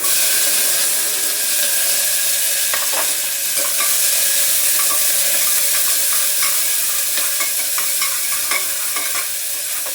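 Onion, chili and curry leaves fry in a hot pan with a steady, loud sizzle and hiss, broken by faint clinks and stirring scrapes; no one speaks.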